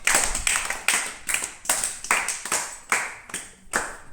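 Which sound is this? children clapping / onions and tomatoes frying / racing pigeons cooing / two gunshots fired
children clapping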